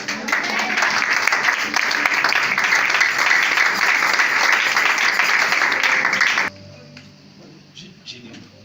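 A church congregation breaks into loud, sustained applause and cheering for several seconds, then it cuts off abruptly, leaving a quieter room with faint scattered sounds.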